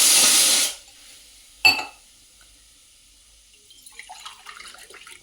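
Water poured into a steel glass at home, a short bright splashing pour that stops abruptly, followed by a metallic clink and faint trickling and rustling.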